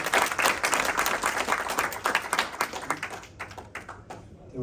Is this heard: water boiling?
no